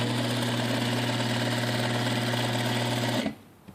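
A Juki DDL series lockstitch sewing machine stitches in a steady, even mechanical hum that runs loud and close, then stops abruptly near the end.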